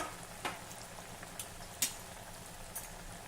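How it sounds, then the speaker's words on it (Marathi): Chakli dough frying in hot oil, a steady soft sizzle and crackle with a few sharper pops, heard alone without talk. "आपण यामध्ये चकली घालूया हे बघा चकली ही तेलाच्या वरच आहे तळाशी गेली नाही"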